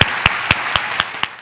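An audience claps in a welcome, with about six sharp, evenly spaced claps over a second and a half, loud and close.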